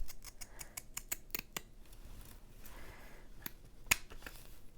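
Scissors snipping through paper while trimming a pocket for a junk journal, a quick run of crisp close cuts near the start and a few scattered snips after, with one sharp snip standing out.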